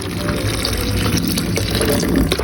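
Water pours steadily into a container of blended sardines for a Malaysian laksa fish broth, a continuous close gushing tap-like flow with no talk.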